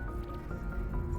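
Lemon juice trickles and drips into a Bee's Knees cocktail, a faint, soft liquid squish lasting about a second, heard alone at close range.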